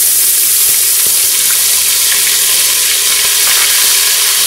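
Garlic ginger paste hitting browning onions in a hot pan, a loud, dense, continuous sizzle with occasional stirring knocks, close up and uninterrupted by speech.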